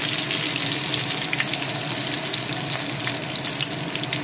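Dried red chillies and whole cumin seeds sizzle in hot oil, a steady, close, bright crackling hiss with small pops throughout, no talking.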